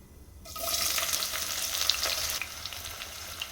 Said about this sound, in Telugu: ఇలా ఉల్లిపాయ ముక్కల్ని బాగా ఫ్రై చేసుకోవాలి.